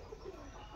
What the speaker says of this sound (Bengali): ওই ওই দেখ আমাদের পায়রা সব